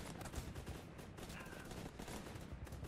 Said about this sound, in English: Fire at that decoy, men!